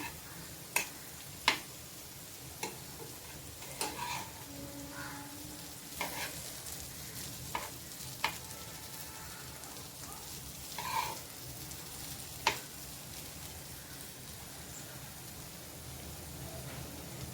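Stuffed okra fries quietly in a pan, a soft continuous sizzle punctuated by sharp clicks and taps as the pieces are turned over one by one.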